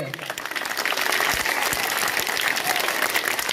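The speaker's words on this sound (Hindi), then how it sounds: "उनके लिए एक बार जोरदार तालियां" Loud, continuous applause for students at a school fair at an Urdu school in Akot, a dense crowd clapping steadily for several seconds with faint voices underneath.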